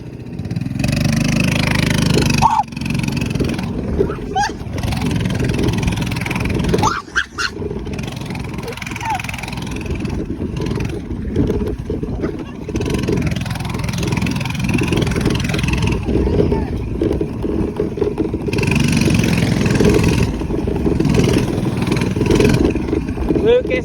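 A small minibike engine drones steadily at high revs as it rides down the road after a wheelie, loud and continuous with wind rush, while people talk over it.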